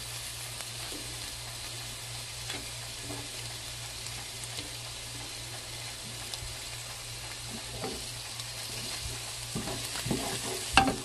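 Sliced carrots sizzle and crackle softly in olive oil over low heat, with occasional stirring scrapes and clicks rising near the end, fairly quiet and without talk.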